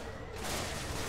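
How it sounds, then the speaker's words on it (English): Gatling gun fire in the Everspace space-combat game: a dense, continuous rattle of rapid shots, loud and close, filling the whole short burst with no gaps. "I'm just gonna pepper you with bullets"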